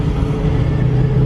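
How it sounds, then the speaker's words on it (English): Evening street traffic in downtown Orlando, a close, loud, low rumble of passing vehicles that holds steady through the short moment. "Typical traffic, Orlando."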